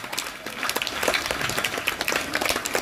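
Audience clapping at a school science event as the chief guest is welcomed, a steady wash of many hands at moderate loudness lasting the whole few seconds with no voices.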